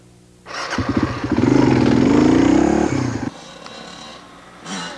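A Suzuki dual sport motorcycle on a trail ride roars loudly as it revs and pulls through for about three seconds, then the engine drops away to a quieter rumble with a brief later swell.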